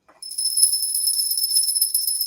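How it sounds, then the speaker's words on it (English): A high, steady metallic whine or squeal of a train passing in the background drones continuously at moderate volume with a faint fluttering texture. "I don't know if you hear that train in the background."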